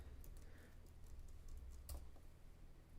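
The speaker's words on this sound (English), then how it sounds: "I was typing." Faint typing on a computer keyboard, a few light scattered clicks heard at a distance over a low steady hum, with no speech.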